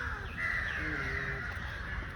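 Crows cawing outdoors, faint and somewhat distant, with a steady wash of background noise and no talking.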